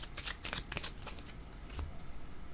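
Tarot cards riffled and shuffled by hand, a string of quick papery flicks and slaps close to the microphone, then a brief pause before a single card is drawn.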